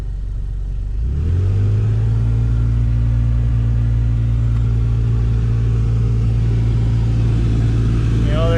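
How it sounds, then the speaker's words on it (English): A 2013 Ford Escape heater blower fan, choked by a rodent nest, switches on and settles into a loud, steady whirring drone that holds without a break. "Well, I turned the fan on."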